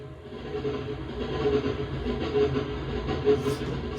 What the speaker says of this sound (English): Sounds like a train to me.